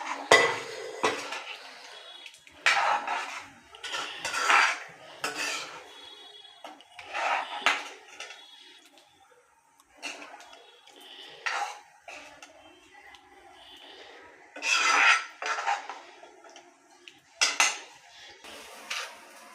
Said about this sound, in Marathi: आता आपण जे छोले बॉईल केलेले आहेत ते टाकून घ्या.